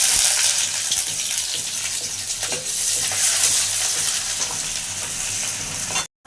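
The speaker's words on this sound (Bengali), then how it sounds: "পেঁয়াজগুলো ভেজে নেবো লাল লাল করে।" Onions frying with bay leaves in hot oil for an egg and cauliflower curry give a steady, loud close sizzle with faint stirring, heard alone throughout and cut off abruptly at the end.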